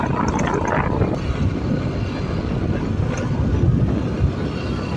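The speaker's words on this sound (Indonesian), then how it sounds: "Traktor nyangkul." A tractor plows a rice paddy in the morning, its engine a steady, continuous low rumble heard from nearby with no talk over it.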